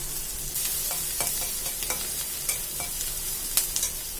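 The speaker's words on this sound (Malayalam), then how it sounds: "അതിലേക്ക് കുറച്ച് വെളിച്ചെണ്ണ ഒഴിച്ച് കൊടുത്തിട്ടുണ്ട് ഇനി അതിലേക്ക് നമുക്ക് കുറച്ച് സവോള ഇട്ട് കൊടുക്കാം" Chopped onions fry in coconut oil in a pan with a soft, even sizzle, broken by light scraping and clinking as a spoon stirs them, close by and without speech.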